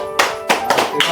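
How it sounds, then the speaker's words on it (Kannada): A few sharp, close hand claps at a family birthday gathering, four or five separate slaps spaced unevenly over about a second, with no talk. "ಇಷ್ಟೆಲ್ಲ ಚಪ್ಪಾಳೆ ಹೊಡಿತಾರ ಅಂದ್ರೆ"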